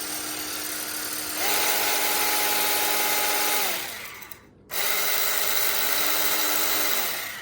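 A Bubba Pro electric fillet knife motor whines steadily up close, its pitch rising and holding, then briefly cutting out before starting again and running on alone.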